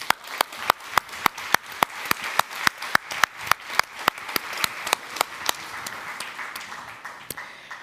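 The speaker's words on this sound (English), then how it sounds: "So let's give them a round of applause." Applause at a youth conference honors the hosts and technical crew, with a steady run of sharp, evenly spaced claps that sound fairly close and stand out over a softer wash of clapping that fades slightly toward the end.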